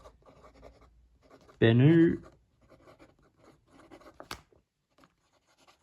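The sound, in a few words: Benu Autograph fountain pen writing on Clairefontaine paper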